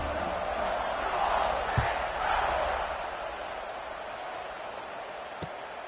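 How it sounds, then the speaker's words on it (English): A large football stadium crowd at a college game murmurs and buzzes steadily at a distance, swelling slightly early on, with a couple of sharp thuds. "this crowd is buzzing after that last score"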